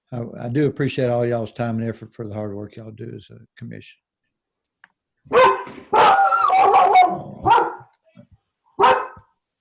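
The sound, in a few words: dog barking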